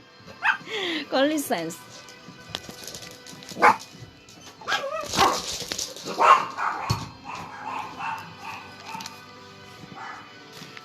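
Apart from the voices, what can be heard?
pet dog barking and whimpering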